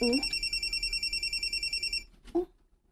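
Telephone ringing with a rapid warbling electronic trill that pulses for about two seconds and then stops, with a brief voice sound right after.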